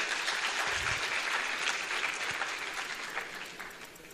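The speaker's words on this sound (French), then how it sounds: "Applaudissez pour ces gens-là." Dense crowd applause at a medical school graduation ceremony, steady and sustained with many hands clapping at once, fading slightly toward the end.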